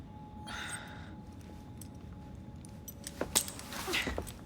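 Keys jangle in a brief metallic rattle as they are handed over in the video game Assassin's Creed Syndicate, a few close clinks near the end over a low steady game ambience.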